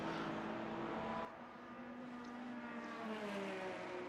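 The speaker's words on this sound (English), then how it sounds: "And now we have a drag race down the straight." BMW and Toyota race cars in a sim racing game drag down a straight, steady engine drone with rising and falling whine, fairly faint and continuous, a slight dip after the first second.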